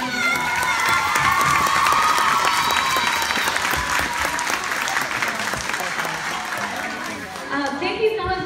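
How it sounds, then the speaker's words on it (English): Audience applause for teachers at a school Christmas musical and chorus program, a dense, loud wash of clapping with some cheering and children's shouts, sustained for several seconds before tapering near the end. "Let's give them a round of applause."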